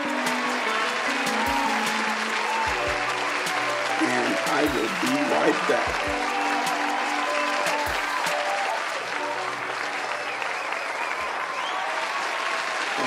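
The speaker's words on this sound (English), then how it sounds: "Cue them applause for me real quick one time." A cued applause sound effect on a horror podcast plays as sustained, dense clapping and crowd noise throughout, with someone talking briefly over it.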